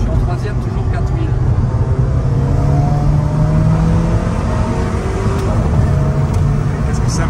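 An Alfa Romeo engine holds a loud, steady drone at about 4000 rpm in third gear, heard from inside the car under continuous engine and road noise, with a voice speaking over it.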